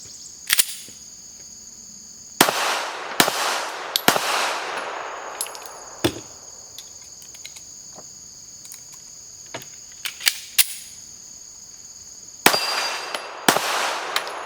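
Pistol shots from a standard CR920X carry pistol, a string of about ten sharp, loud cracks spaced irregularly, some in quick pairs, with a faint steady high insect-like whine underneath.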